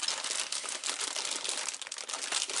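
Packaging crinkles continuously as a small box is opened, a dense close-up rustle of crumpling plastic or paper with no talk.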